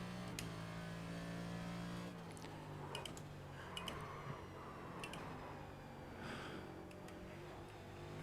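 A NASCAR Next Gen race car engine in the iRacing sim holds a steady, droning note, with its pitch shifting slightly as the throttle is worked and a few brief clicks over it.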